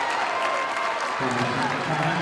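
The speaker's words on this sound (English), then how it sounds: "the Luers crowd goes crazy here at Marion High School" High school boys basketball crowd at Marion High School roaring and applauding during a scoring run, a dense loud cheer under a commentator's voice.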